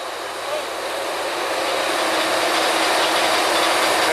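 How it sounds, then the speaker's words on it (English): Draw works winch on a land drilling rig being worked with its brake, a loud, steady broadband mechanical roar with a ratcheting, grinding texture that holds constant throughout. "That's the brake man working that winch, the brake on the winch."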